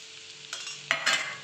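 Spicy kurdai fry being stirred in a pan: soft sizzling with two or three close scraping strokes of a spoon over the course of a moment.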